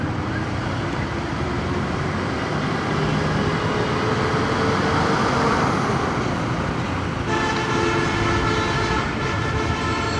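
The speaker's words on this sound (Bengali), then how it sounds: "হর্ন দিয়ে পাগল করে দিতেছে কে জানি পিছায়" Dense motorcycle-level street traffic in Bangladesh with rickshaws and engines rumbling steadily, and car and bike horns tooting repeatedly through the noise, some sustained tonal honks especially toward the end.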